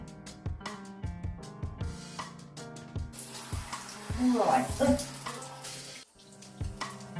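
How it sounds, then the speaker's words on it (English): Shower water runs and splashes steadily while someone washes locs with shampoo, with a brief spoken word, shifting splashing as the spray hits hair and body, and soft background tones underneath. "I'm gonna hop in the shower real quick and get to sudsing."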